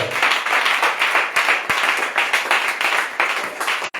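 A church congregation claps and cheers steadily for the whole stretch, a dense, lively wash of applause with no clear talk above it.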